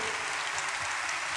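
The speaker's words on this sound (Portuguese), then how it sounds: "Aplauda você mesmo, porque isso vai acontecer" A church audience applauds during a Catholic sermon, a dense, steady patter of many hands clapping throughout, fairly distant and even, with no talk over it.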